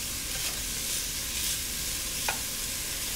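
Sliced zucchini sizzling in a frying pan for a one-pot pasta, a steady soft hiss with one sharp utensil clink partway through.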